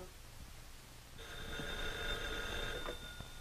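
An old telephone bell rings in a quiet room in a 1937 mystery film, a sustained ring starting partway through and then stopping, with no talk over it.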